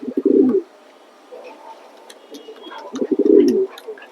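Racing pigeons coo in two close, throaty bursts of low rolling notes, separated by a quieter pause with faint background sounds.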